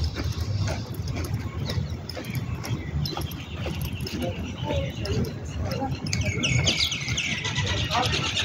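A dog heard outdoors during a walk, with faint barks and whimpers under steady street noise, jangling keys and birdsong, while people talk nearby.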